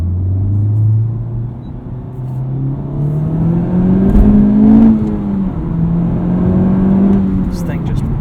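A 2019 Honda Civic Type R accelerating hard from inside the cabin, its engine note climbing in pitch through the gears with brief dips at shifts, loud and steady throughout with talking over it.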